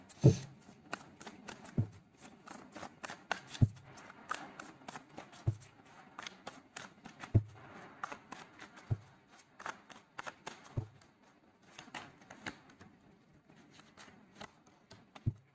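Tarot cards being shuffled by hand: repeated soft riffling bursts and crisp card flicks in irregular rhythm, close and fairly quiet, with no one talking.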